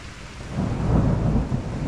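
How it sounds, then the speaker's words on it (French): Low rumbling thunder from a violent thunderstorm swells and rolls through heavy rain, a deep sustained growl building midway then easing, with no voices. Recorded in Liège, Belgium. "On a eu deux énormes impacts de foudre très proches."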